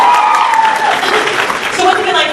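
Comic Con 2011 audience clapping steadily in a dense, loud wash that fills the hall, with people talking over it.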